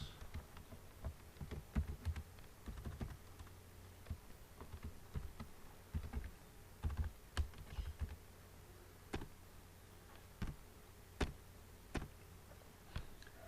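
Keys click on a computer keyboard in short, irregular bursts of quick taps, faint and close, with brief pauses between runs of typing in a quiet room.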